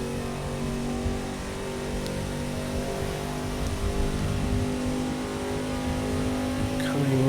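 A race car engine in Project Cars 2 roars continuously at high revs through a corner in second gear, a loud, sustained buzzing whine that holds steady with small rises in pitch.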